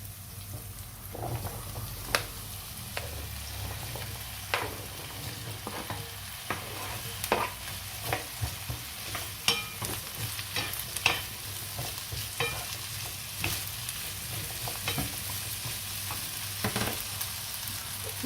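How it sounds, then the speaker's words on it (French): Potatoes frying with onions in oil, a continuous close sizzle broken by scattered scrapes and taps of a spatula as the pan is stirred. "On va les mettre avec mes oignons qui étaient en train de frire."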